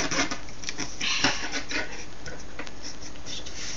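Scissors snip through paper while a paper iPod Touch stand is being made, a quick series of crisp, close, light cuts at an uneven rhythm, with no voices over it.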